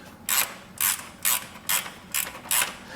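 A ratchet clicks in six quick, evenly spaced bursts as it loosens exhaust fittings on a Porsche GT3 RS during a Dundon exhaust install, close and clear with no talking.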